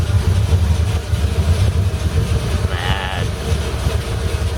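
A car engine, just started, idles with a steady low rumble throughout. A short bleat-like tone rises briefly near the middle.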